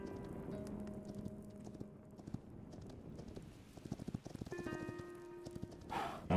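Horse hooves clip-clop in a cave in Hytale, a run of hollow knocking steps that comes and goes, turning into a quicker patter near the end, fairly quiet.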